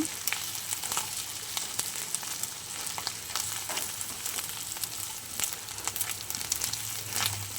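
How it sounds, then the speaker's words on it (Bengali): Fish roe frying in a pan with aubergine, onion and green chilli gives off a steady, dense sizzle that runs throughout, with occasional small crackles and pops but no voices. "বেগুন, পেঁয়াজ, কাঁচা লঙ্কা দিয়ে মাছের ডিম প্রায় ভাজা হয়ে এসছে"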